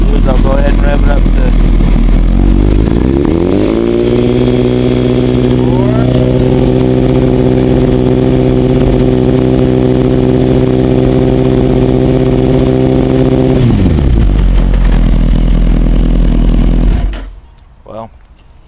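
A motorcycle engine, fitted with a newly replaced stator, idles up close, then revs and holds a steady higher-pitched drone for several seconds before dropping back to idle and cutting off near the end.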